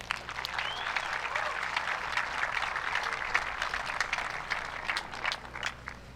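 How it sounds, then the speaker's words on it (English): An outdoor crowd at the ASA Open Pro archery shoot-down in Russell County, Alabama, claps for a winning archer, a moderately quiet, crackling patter of many hands that continues throughout. "Let's give him a big round of applause."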